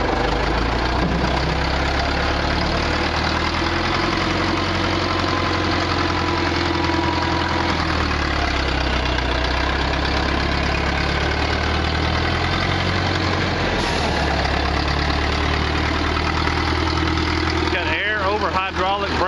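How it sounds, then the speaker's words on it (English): A Case 780 backhoe's engine runs steadily at idle, a loud, constant low drone that stays near, with a brief disturbance toward the end. "We're going to go ahead and fire it up and run it around the yard here a little bit"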